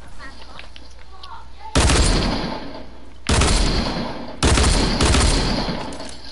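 Gunfire in Fortnite, three loud bursts of rapid shots, each cutting in suddenly and fading away, with quiet background sound in the gaps between them.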